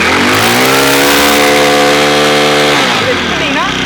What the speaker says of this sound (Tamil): ரேஸ் பண்ணீங்கன்னா ஃபுல்லா வந்து இன்ஜின் வந்து ரேஸ் ஆகும்.